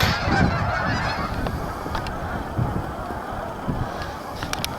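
Many geese honk continuously outdoors, a noisy chorus of overlapping calls over a steady rushing background.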